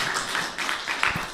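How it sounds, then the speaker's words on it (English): An audience at a Gita Jayanti festival claps in a quick, dense burst of applause that fills the short moment. "Just give her a big round of applause."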